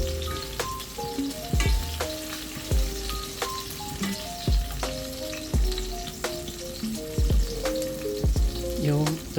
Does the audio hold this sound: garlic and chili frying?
yes